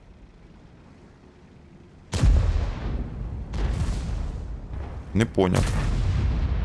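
A tank's main gun fires in a video game, delivering a sudden heavy boom that rolls away into a long rumble, then further bursts and blasts, loud and close, with a voice speaking briefly over the din.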